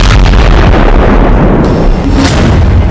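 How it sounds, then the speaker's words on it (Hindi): Bomb blast during a gunfight between Palestinian fighters and Israeli troops in a Tulkarm street in the West Bank, a loud booming, rumbling burst that fills the whole stretch with heavy low-end noise. "तभी एक बम फटता है।"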